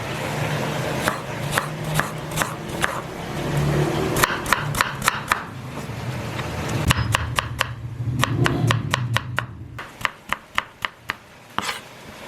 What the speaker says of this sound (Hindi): ये हमने अदरक का एक पीस लिया है, इसको बारीक बारीक काट लेते हैं